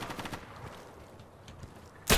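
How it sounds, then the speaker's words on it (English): Gunfire in Insurgency, a rapid burst of shots at the start and then a loud close shot at the very end, with no speech. "Oh, we're under fire."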